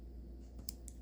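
Gerber Dime multitool being opened, a couple of small, crisp metallic clicks over a quiet background, close and brief.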